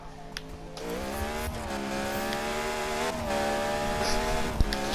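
A racing car engine in the Need for Speed video game holds a steady, loud droning tone that climbs gradually in pitch as the car accelerates, continuous throughout with no talk.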